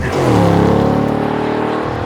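A Ford Mustang Dark Horse V8 engine revs hard and steadily, a deep throaty roar with rising harmonic tones that swells early and holds loud, close to the listener.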